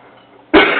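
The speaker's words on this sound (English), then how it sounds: "I got a bit of a cough." A single loud, close cough bursts out abruptly after a brief quiet lead-in, with no talking.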